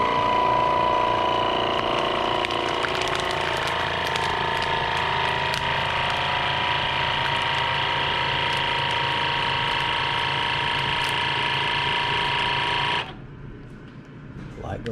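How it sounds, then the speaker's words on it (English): A vacuum sealer closing on a trail meal bag of beef stroganoff runs with a steady mechanical hum and whine for about thirteen seconds, then cuts off sharply into quiet. "we press the vacuum seal button."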